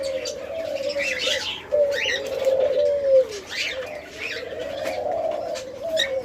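Diamond doves at a bird farm coo repeatedly in soft, rolling phrases, close and clear, with light chirps from other birds around them.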